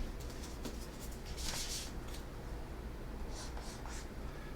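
Pen or marker writing out a math equation, with short scratchy strokes in a few quick bursts over a faint steady background hiss, close and soft.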